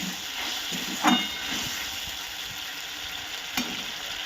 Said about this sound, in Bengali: মশলাটাকে আমি ততক্ষণ কষিয়ে নেবো যতক্ষণ মশলার গা থেকে তেল না থাকবে